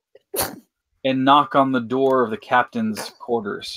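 A single sharp human sneeze bursts out near the start, followed by someone talking steadily.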